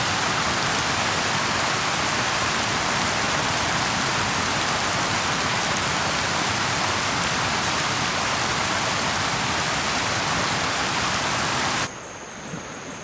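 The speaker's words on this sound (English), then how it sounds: "lots of wind, rain, water" Steady, dense rain pours down on Taveuni Island, Fiji, as a continuous broadband hiss, loud and close, then cuts abruptly to a quieter, duller wash near the end.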